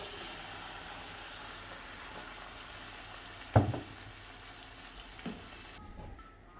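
Chickpeas fry with onions and tomatoes in a pan, giving a soft steady sizzle, with a sharp knock of a utensil partway through and a smaller one later; no one talks.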